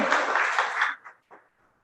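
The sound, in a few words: audience applause for the speaker's lawyer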